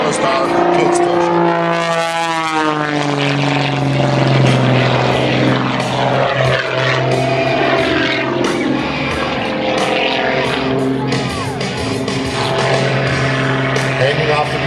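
A highly modified 400-horsepower biplane with a composite three-blade propeller roars through an airshow pass, loud and close, its engine pitch sweeping up and then down as it flies by. Crowd noise and voices sit underneath.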